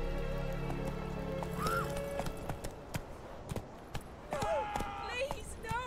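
Roach the horse in The Witcher 3: Wild Hunt, hooves clip-clopping in irregular steps while the horse gives two rising whinnies, with game music and other effects underneath.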